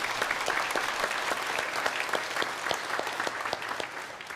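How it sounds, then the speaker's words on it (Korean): Church congregation applauding during a Sunday worship service, a steady, dense wash of clapping from many hands that holds evenly throughout without a break. "우리 박수로 한번 격려를 부탁드립니다"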